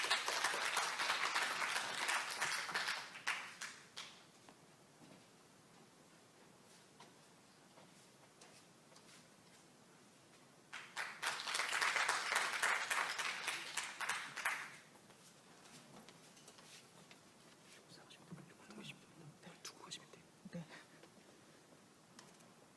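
An audience at a Korean cooperative-day sharing event applauds twice to greet two presenters. The clapping is loud and sustained, fades, and returns after a lull with some scattered patter.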